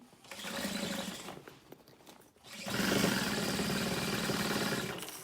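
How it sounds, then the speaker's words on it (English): Sewing machine running in two bursts while back stitching a vinyl strap on a backpack, a steady mechanical whir with a brief pause between passes, close and moderately loud. "Back stitch one little time over it."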